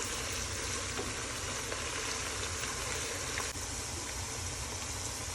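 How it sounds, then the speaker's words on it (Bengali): Onions frying lightly in a pan while cooking beef tehari, a continuous, even crackling sizzle like steady rain, held at a constant level throughout with no talk. "পেঁয়াজটাকে খুব সুন্দর করে হালকা আমরা ভেজে নিব।"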